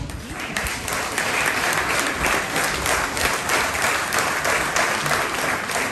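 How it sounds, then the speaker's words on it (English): Mourners at a thanksgiving memorial service break into sustained applause, a dense, loud, even wash of many hands clapping that runs unbroken from start to finish with no talk over it. "you give them a round of applause"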